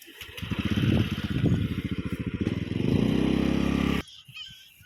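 A motorcycle engine runs close up with a rough, pulsing putter that swells and surges before cutting off abruptly near the end.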